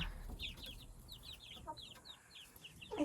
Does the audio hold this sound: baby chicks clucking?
yes